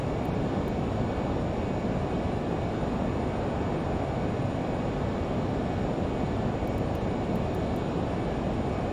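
Steady broadband roar of a Learjet 35A's jet engines in a flight simulator, heard continuously at even loudness for the whole stretch with no talk over it.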